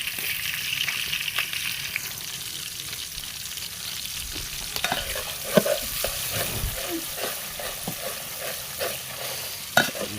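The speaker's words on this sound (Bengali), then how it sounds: "এখন পেঁয়াজগুলো একটু কষিয়ে নিচ্ছি।" Sliced onions fry in a pan while being stirred for a fish curry with radish and rohu, a steady soft sizzle with scraping stir strokes and a couple of sharper clatters of the spoon against the pan.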